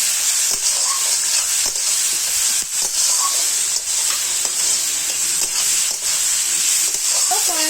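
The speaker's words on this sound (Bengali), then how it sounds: "সবসময় নাড়তে হবে, কারণ রসুন দিয়েছি তো কড়ার সাথে ধরে যেতে পারে, সেই জন্য বারবার এটাকে নাড়াচাড়া করছি" Garlic frying in a kadai for village-style desi chicken, loud continuous sizzle and hiss with repeated spatula stirring scrapes, close up and steady with no talking.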